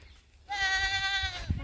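Goat on a family farm in Chitwan gives a single clear, close bleat lasting about a second, after a short quiet moment.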